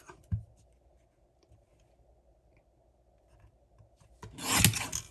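Paper trimmer blade slicing through cardstock during card-making, a short close rasping swipe near the end after a faint tap at the start, otherwise quiet.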